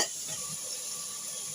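Mutton sizzles and hisses steadily in a pot for a short stretch, with faint scraping as it is stirred; no voices.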